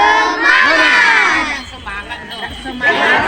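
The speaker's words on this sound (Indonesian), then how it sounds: "Tepuk semangat." A group of schoolchildren on a study tour shout out the tepuk semangat chant together, loud and close, a burst of massed young voices that fades and then swells again.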